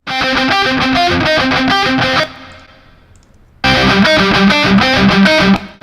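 Two heavy metal electric guitars play the same part with heavy distortion, loud chugging riffs that cut out briefly to a fading ring before crashing back in.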